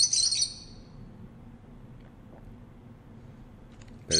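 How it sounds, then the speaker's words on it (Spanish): Woodpecker call in an adventure video game, a short burst of high sharp chirps at the very start, then near silence with faint low background hum and a brief chirp returning at the end. "Parece un pájaro carpintero."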